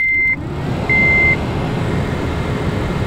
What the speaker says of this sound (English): I guess I should expect that any blower motor still makes noise.